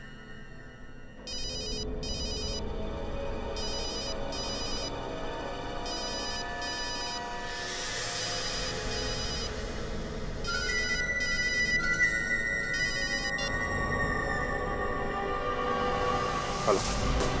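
A telephone rings with a repeating electronic ringtone pattern, steady and fairly loud, continuing for a long stretch with a shift in tone partway through.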